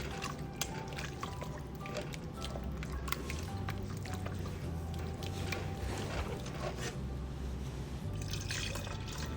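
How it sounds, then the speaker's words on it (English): Milk goes into a flour-butter roux for macaroni and cheese and is stirred with a wooden paddle. The result is a soft, continuous sloshing and liquid churning with faint scraping, quiet and steady throughout. "I'm going to add 1 cup of milk at a time, and I'm going to stir it"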